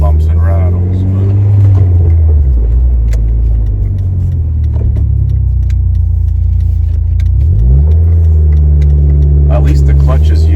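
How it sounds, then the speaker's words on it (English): A car with a blow-off plate and a worn, recently fixed clutch drives along with a steady, loud engine drone, a gear change partway through, and scattered bumps and rattles from the cabin. "I'll just take it for a little drive."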